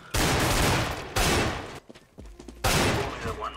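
Desert Eagle pistol fire in CS:GO, heard as three loud bursts of rapid shots, each trailing off, separated by short quiet gaps.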